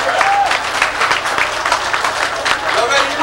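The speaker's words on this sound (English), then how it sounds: "Give yourselves a round of applause." An audience applauds at a live club show at Club Elite in New York: dense, loud, continuous clapping mixed with cheers, while a voice sings or shouts a sustained tone over it.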